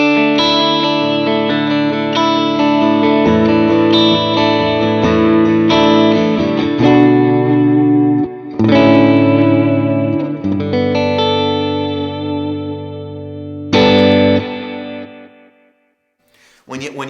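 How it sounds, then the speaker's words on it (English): Electric guitar played through delay and modulation effects for a worship-style tone, chiming chords ringing with layered repeats and shimmer, pausing briefly before a final struck chord that trails off. "play it with this sound so we can hear what adding that first delay sounds like"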